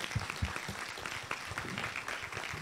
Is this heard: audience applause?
yes